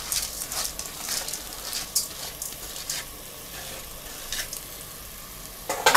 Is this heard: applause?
no